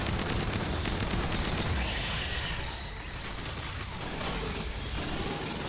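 Automatic shotgun firing rapidly in the video game Aliens: Fireteam, a dense continuous burst of loud overlapping blasts with mechanical clatter that holds for several seconds, no talk.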